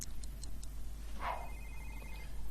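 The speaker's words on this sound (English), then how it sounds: "Right, whose phone's going off?" Phone ringing in a life-simulation video game, a faint series of short electronic trills over a low steady hum, with a brighter chime midway.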